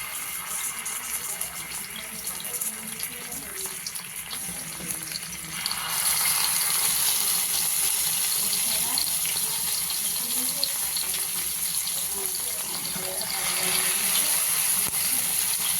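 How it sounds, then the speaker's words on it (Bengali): Lote fish paturi, fish parcels, slide into hot oil. A loud, steady broadband sizzle starts partway through and keeps going, close by, with no speech over it. "তেলটা একটু গরম হলে এর মধ্যে আস্তে আস্তে পাতুরিগুলোকে দেবো।"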